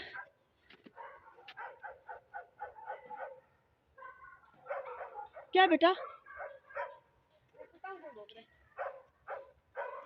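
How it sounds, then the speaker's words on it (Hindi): A dog barks and yips repeatedly in rapid bursts, moderately distant, with a person talking briefly in between. "कहाँ से भौंक रहा है?"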